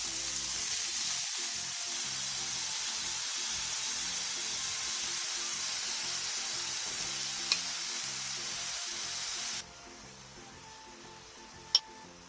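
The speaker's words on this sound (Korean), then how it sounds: "예열된 팬에 팽이버섯을 골고루 올려준 뒤 버섯 위에 양념장도 골고루" Enoki mushrooms topped with seasoning sauce sizzle in a pan preheated with a spoonful of sesame oil over medium-low heat, a steady loud frying hiss that drops sharply near the end, followed by a single click.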